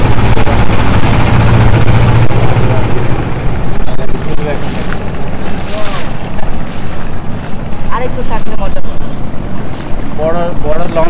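A trawler boat on a river in Old Dhaka gives a loud, steady engine drone with heavy wind noise, while people talk over it.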